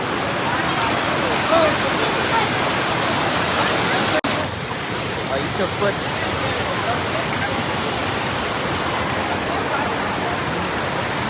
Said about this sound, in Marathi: लय जोरात पाणी चाललं.